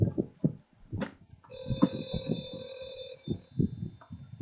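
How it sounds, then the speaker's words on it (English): A telephone rings once, its bright electronic trill holding steady for about a second and a half, mixed in with indistinct voices and chatter before and after it. "I gotta answer the phone."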